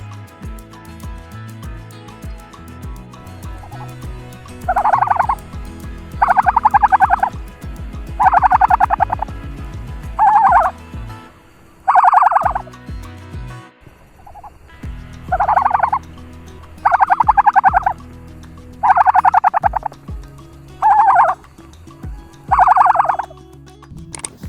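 An ostrich gives a series of loud, low booming calls in regular bursts, each lasting about a second with short gaps between them. The calls are close and clear over a soft background, with no voices.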